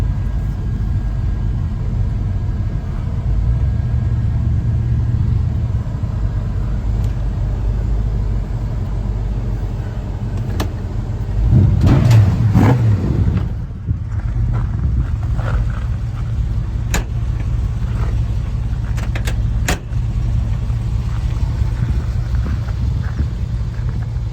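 A 1977 Chevrolet C10 Silverado pickup truck drives along steadily, its engine a continuous low rumble with road noise throughout, briefly swelling louder near the middle before settling back to an even cruise.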